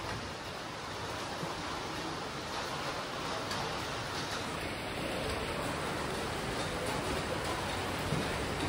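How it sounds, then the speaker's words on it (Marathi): Rain falls outdoors during a Govinda troupe gathering in M.G. Nagar, a faint, steady hiss throughout with no clear voices. "पाऊस येतोय"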